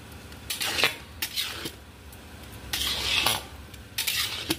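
A spoon stirring pulao in a metal pot after coloured milk is added, bringing repeated close scraping and clinking strokes in an uneven rhythm with short pauses between.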